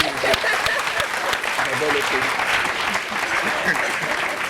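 A studio audience on a French talk show bursts into lively, continuous applause, dense clapping with a few voices chattering over it.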